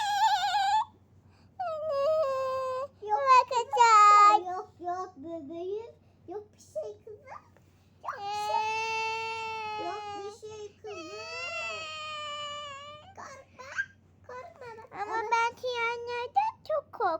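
A child imitates a baby crying with high wavering wails and whimpers, broken by short pauses and some childish talk.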